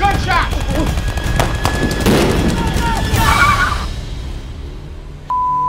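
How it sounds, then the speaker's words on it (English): Gunfire crackles in a quick, ragged burst of sharp reports. It is loud and dense at first, then thins out and fades, with voices shouting in the background. "Gunshot!"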